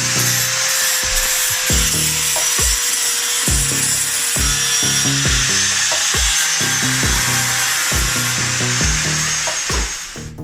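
A flap disc on an angle grinder works over a rust-repaired Subaru WRX body panel, giving a loud continuous high grinding hiss cut by rapid rhythmic thumps and scrapes, close and alone, easing off at the end.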